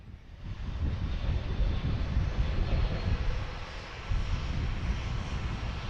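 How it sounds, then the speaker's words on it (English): Turkish Airlines Airbus A321neo departing Manchester Airport for Istanbul, a rising, fairly distant jet engine roar with gusty low rumble and wind buffeting across the microphone, alone without voices. "Turkish Airlines Airbus A321 Neo departing to Istanbul"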